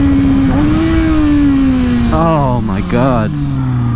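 Kawasaki ZX6R supersport motorcycle revving hard at very high RPM, its loud engine whine climbing then dropping through quick upshifts, close and dominant, with a voice briefly exclaiming over it.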